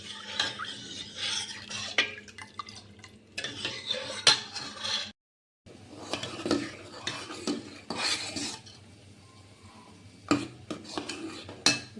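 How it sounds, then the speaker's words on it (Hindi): A spoon stirs kadhi in a pot, giving repeated scraping and clinking against the metal with a brief pause midway, close and moderately loud with no talking. "अब जब तक इसमें उबाल नहीं आता जब तक मैं इसे चलाऊंगी।"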